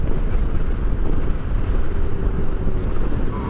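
Heavy wind roar buffeting a rider on a KTM 390 Adventure motorcycle at full throttle, a loud, continuous low rumble with no breaks and no voices.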